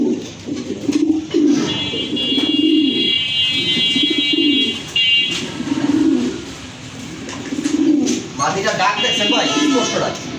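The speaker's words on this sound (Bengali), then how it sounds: "খুবই সুন্দর ডাকতেছে কবুতরগুলো" Racing pigeons cooing in a loft, repeated low rolling coos in a steady rhythm close by, with someone talking over them and faint bird chirps in the background.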